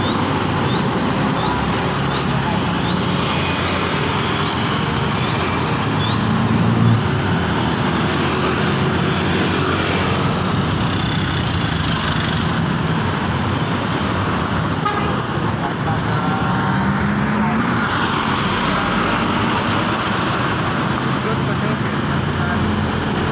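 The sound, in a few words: Royal Class tour buses passing on road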